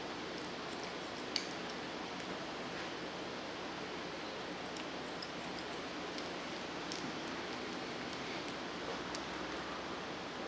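Faint, sparse snips of scissors cutting hair for a short pixie haircut, scattered irregularly over a quiet background hiss.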